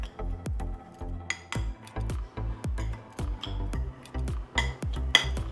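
Garlic powder, onion powder, black pepper and salt stirred together in a dish, a run of about a dozen sharp utensil clinks and taps against the bowl at an uneven rhythm, close and alone.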